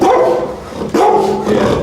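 A dog sounds off close by in a couple of loud, voiced bursts, with a pause before the second, amid warm indoor chatter around a family home.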